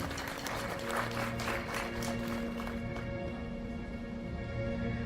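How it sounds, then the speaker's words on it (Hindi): Audience applause at an instrumental orchestra show honouring saxophonist Subhash Telang, a steady wash of clapping with a sustained musical tone running beneath it. "मैं चाहूँगा मिस्टर सुभाष तेलंग दादा के लिए जोरदार तालियां"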